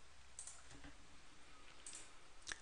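A computer mouse clicks an OK button in Time Matters software, a few faint, crisp clicks spaced across a quiet background.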